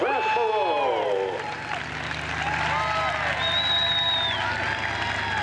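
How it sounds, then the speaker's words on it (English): At a county fair stunt show in Wood County, Ohio, a crowd claps and cheers steadily, with whistles and shouts rising over the applause, while a voice carries over the din through a loudspeaker. "He loves that applause, ladies and gentlemen."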